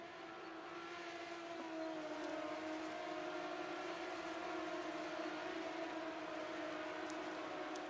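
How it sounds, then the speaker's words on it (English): BMW M88 straight-six race car engines at the 1980 Austrian Grand Prix in a sim race, heard as a steady, sustained droning whine that holds one pitch throughout, continuous and fairly loud with no talking. "Just listen to those beautiful sounding M88 BMW straight line engines."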